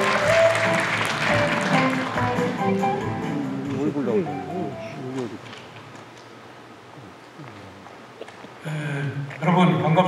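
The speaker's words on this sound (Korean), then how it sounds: "여러분 큰 박수로 환영해 주시면 감사하겠습니다" An audience claps to welcome a speaker to the stage at the opening ceremony of a 2023 Chungcheong-region reunification rally. The applause is broad and spread through the hall, and voices and other sounds of the hall run under it throughout.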